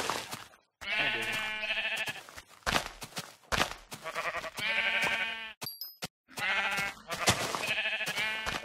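Sheep in the video game Minecraft bleat repeatedly in clear, separate calls with short gaps between, close and fairly loud, mixed with clicks and game hit sounds.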